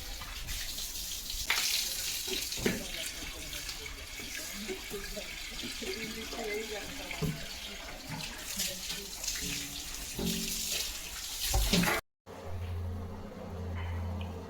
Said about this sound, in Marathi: चेंज केलं आणि पोर्च धुवून घेते नळी लावून